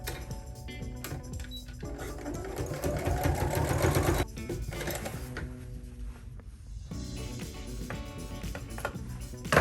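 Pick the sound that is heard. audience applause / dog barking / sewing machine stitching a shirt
sewing machine stitching a shirt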